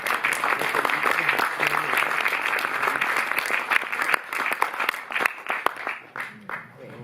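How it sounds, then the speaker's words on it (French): Audience applause after a post-screening discussion of a Jacques Rivette film at a cinémathèque, dense steady clapping from a room of people that thins and tapers toward the end, with some voices mixed in. "on peut les applaudir."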